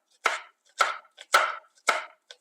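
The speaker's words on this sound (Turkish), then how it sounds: "Onları doğruyorum." Thin green peppers are chopped on a board in four crisp, evenly spaced knife strokes, each followed by a faint lighter tap, close and clear with no talking.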